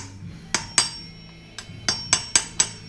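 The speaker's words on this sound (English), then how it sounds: "I'll actually use the 8mm wrench to knock it down flush." Light metallic knocks from an 8mm wrench tapping a small part flush during a cut-down 8.8 rear axle assembly, seven sharp taps in an uneven rhythm, close and fairly loud.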